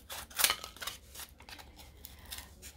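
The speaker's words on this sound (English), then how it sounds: "I'm gonna go ahead and cut these out." Scissors snipping through paper craft pieces, a sharp close cut near the start followed by several softer snips and rustles, quiet room with no talking.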